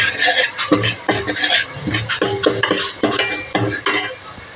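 Biryani masala paste mixed in a metal pan, a busy run of rhythmic spoon scrapes and clanks against the pan over a faint sizzle, loud and close with no speech.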